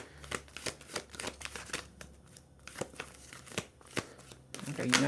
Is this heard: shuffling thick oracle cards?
yes